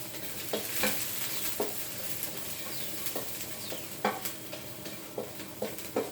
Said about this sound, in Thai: ใส่น้ำมันมะกอกก่อนนะจ๊ะ ใส่กระเทียมลงไป